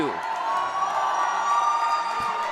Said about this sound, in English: And now here comes the Smithtown crowd getting loud